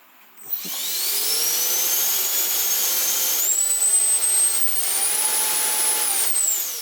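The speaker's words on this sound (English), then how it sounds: "Thrust test. Going the right way? Yes. Are we ready? And it's showing thrust." Jet engine on a B-58 Hustler model runs a thrust test: a loud, steady high-pitched whine spools up quickly after a click, climbs in pitch, holds near its peak, then starts winding down, with no talking.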